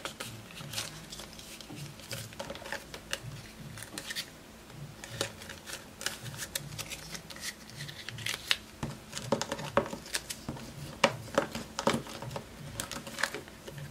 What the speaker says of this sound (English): envelope two will be getting stuffed